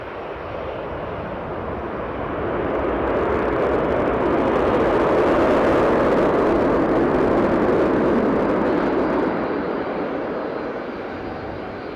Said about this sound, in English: Jet2 now making its move to line up, Alicante bound.